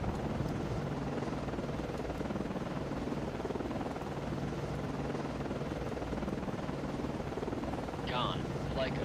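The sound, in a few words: aircraft landing on a ship in a video game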